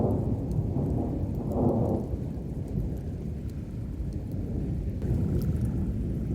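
A huge monsoon storm rumbles with heavy thunder over steady rain pouring on surfaces near a barn, the rolling thunder swelling and fading without any voices.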